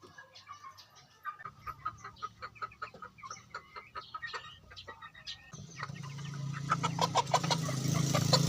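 Chickens of a breed from Africa cluck in quick, repeated bursts close by, short rhythmic calls running throughout, with wind or rustling noise swelling in the background during the second half.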